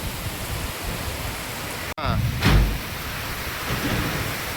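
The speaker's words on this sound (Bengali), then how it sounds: "আস্তে আস্তে বৃষ্টি জোরে আসছে।" Heavy rain pours in a steady loud roar, broken by a sharp crack of thunder and a rumbling boom just after, with faint talk in the background.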